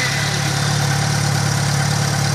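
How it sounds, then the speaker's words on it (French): Motorcycle engine running at a steady idle, a constant close mid-low hum with even vibration and no speech. "il faut mettre la moto en route"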